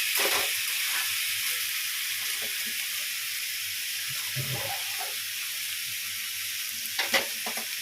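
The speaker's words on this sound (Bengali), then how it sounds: "এবার লাল লাল করে ভাজবো" Meat frying in a pan until browned makes a steady, dense sizzle with a few stirring scrapes and a brief clatter near the end, close and continuous with no speech.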